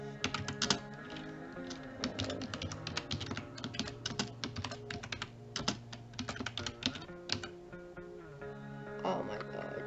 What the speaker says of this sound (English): I actually don't know what my keyboard is doing.